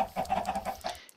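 Minecraft chickens cluck in a video game, a run of short, close, evenly spaced clucks that stops abruptly near the end, with no talk over them.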